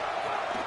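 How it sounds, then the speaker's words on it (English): Stadium crowd in EA Sports College Football 27, Washington State Cougars against Oregon Ducks, a steady distant roar of many voices, brief and even. "this crowd trying to help keep them there"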